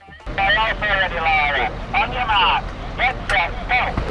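Tractor engines race in the Farming Simulator 19 video game, loud whining revs climbing and falling in repeated bursts as the machines push through their gears.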